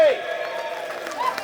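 A crowd claps for the Assam state president at a goods-shed workers' meeting in Dhemaji, a loose, moderate patter of hands heard alongside a voice.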